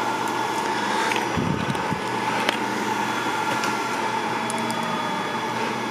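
An Anycubic Kossel Linear Plus delta 3D printer runs at higher speed, a steady mechanical whir and hum of motors with a few small clicks, continuous and close.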